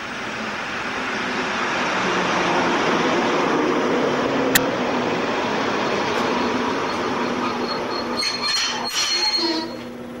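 An ETA 515 railcar train rolls steadily past nearby at Mülheim-Styrum station, a broad continuous rumble with faint rail clinks and a brief squeal near the end.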